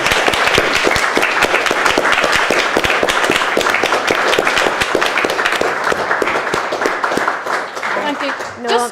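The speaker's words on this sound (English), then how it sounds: "Please stand up, everybody, and give these brave women a round of applause." A standing audience applauds at an event on arts, advocacy and activism, a dense, loud burst of many hands clapping continuously before it thins out, with a voice speaking briefly near the end.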